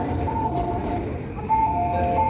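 A train pulls into a busy Japanese station platform, its steady rumbling roll joined by a sustained tonal whine or chime that comes and goes over the low noise of the station.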